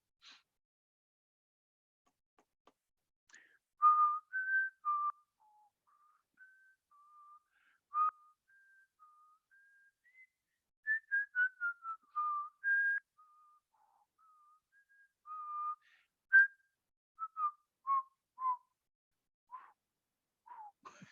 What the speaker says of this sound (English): Nice whistle.